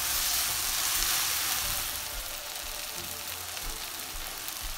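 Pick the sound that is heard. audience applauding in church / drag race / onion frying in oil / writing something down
onion frying in oil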